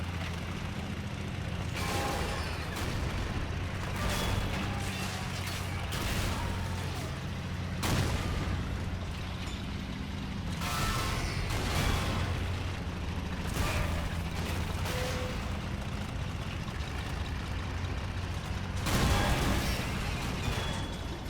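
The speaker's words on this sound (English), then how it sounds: "Guns here just putting a lot of fire on the enemy." Gunfire and explosions from the World War II strategy game Men of War during a Panzer assault on a British line in Normandy: a steady rumble broken by repeated sharp booms and shots, with no talking.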